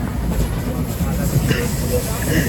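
Steady low rumble and rattling of a moving train carriage, continuous throughout with faint voices in the background.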